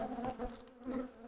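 Honeybees hum and drone close by around a hive in a soft, wavering buzz that swells and dips, fairly quiet with no talking.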